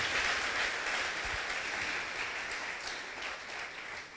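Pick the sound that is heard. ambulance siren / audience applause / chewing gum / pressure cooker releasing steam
audience applause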